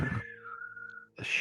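A person imitates a shrill whistle with their voice, giving one long sustained, slightly bending tone that stands alone between bursts of other sound.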